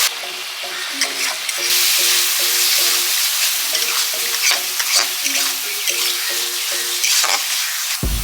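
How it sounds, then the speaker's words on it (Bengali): Onion fried red with turmeric, dry chilli and cumin powder plus ginger-garlic paste, sizzling and frying in a pan while a spatula scrapes and stirs in a steady rhythm, close and fairly loud, with no talking. "পেঁয়াজটা কষা হয়ে গেছে লাল লাল করে ভালো করে ভেজে নিয়েছি মশলা দিয়ে দিচ্ছি"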